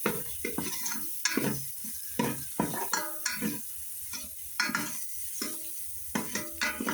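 Food frying in a pan is stirred in short scraping bursts, a soft sizzle under repeated utensil strokes and clatter at an irregular rhythm, close by and fairly quiet.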